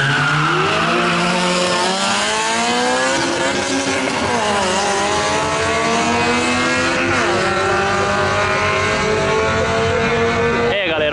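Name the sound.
Amarok V6 and Civic SI drag race, engines and tires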